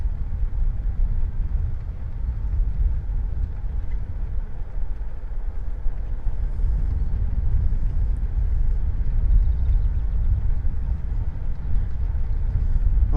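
Wind rumbles low and continuously against the microphone during a ride on a vintage Union Savoy bicycle, a steady, buffeting roar with no voices.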